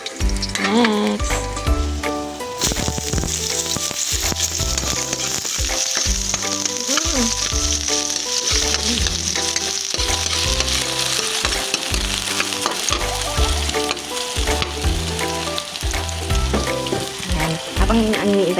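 Garlic frying in a pan, a loud continuous sizzle with stirring clatter throughout, and background music playing underneath.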